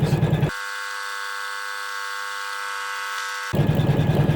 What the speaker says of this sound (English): And you can see now that triple stitch coming around.